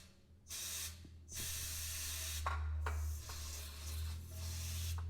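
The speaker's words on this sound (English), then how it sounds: "Let me show you what happens when I spray some brake cleaner through this tube." Brake cleaner hisses out of an aerosol can through a fuel tube on an old Caterpillar dozer, sprayed in long steady bursts with short gaps, loud and close, with no talking.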